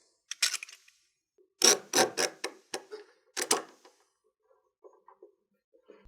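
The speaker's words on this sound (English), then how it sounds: "So I'm going to line up the saw blade and clamp it into place." A clamp ratchets tight, fixing a speed square to a wooden board as a saw guide for a nightstand. Sharp close clicks come in quick bursts, then a few fainter taps follow. No one speaks.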